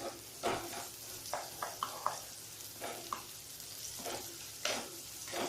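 Duck pieces roasting in a pan with rock salt hiss in a quiet, steady sizzle, broken by scattered clicks and scrapes of stirring.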